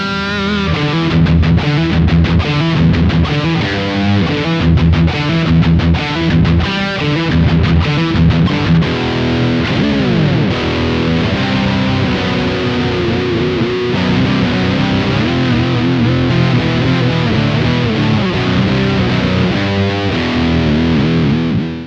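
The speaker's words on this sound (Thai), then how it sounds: "นี่คือเสียงจากมินิฮัมนะครับ" Overdriven electric guitar with a mini humbucker pickup plays continuously for over twenty seconds, chugging riffs giving way to bending lead lines, thick and loud with no voices.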